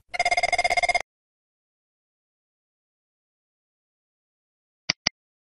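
A telephone on an Arc operator attendant console rings in one loud trilling burst of about a second. Silence follows, then two faint clicks near the end.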